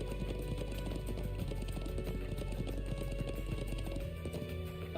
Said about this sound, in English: The horse is right there.